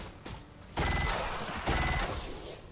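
Automatic gunfire in XCOM 2 comes as two loud rapid bursts, each lasting under a second, with a brief lull between them.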